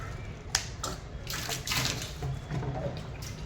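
Water splashing and pouring while basins are washed with a scrubber at an outdoor riverside spot, soft intermittent sloshes and trickles close by, fairly quiet.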